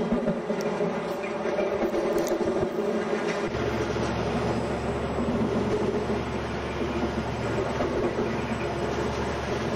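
A train running in the MSTS Indian Railways Train Simulator game on a Guwahati Garib Rath Express route, a continuous loud rumble with rhythmic wheel clatter that thickens after a few seconds.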